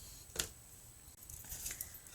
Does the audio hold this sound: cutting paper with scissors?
yes